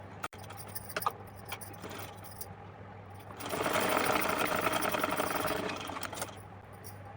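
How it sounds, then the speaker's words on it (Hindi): Sewing machine stitching thin golden lace onto a small doll dress for a Laddu Gopal idol, a steady close mechanical whir that starts softly with brief stops and then runs louder and continuous through the second half. "मैं इसको सिलाई करके कंप्लीट करूँगी"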